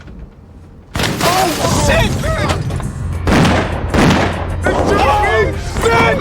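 Police gunfire in a film scene from New Jersey Drive, loud booming shots bursting in abruptly and overlapping with shouting voices and an exclamation.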